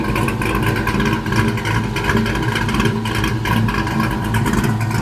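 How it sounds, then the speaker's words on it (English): A V8 engine fitted into a Chevrolet S10 pickup idles and revs through its exhaust, giving a steady, loud, rumbling drone up close with no talking. "Let me get that exhaust note for y'all."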